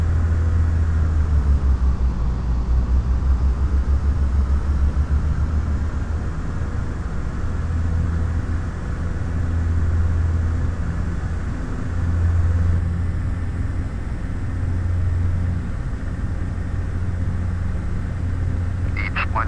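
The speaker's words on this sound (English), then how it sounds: "So we'll go outside and just watch the aircraft land." Beechcraft Baron 58 twin-engine aircraft coming in to land in Microsoft Flight Simulator X: a continuous low engine drone and rumble, steady and loud, with slight swells in pitch and a brief clicking near the end.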